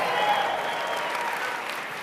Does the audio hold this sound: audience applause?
yes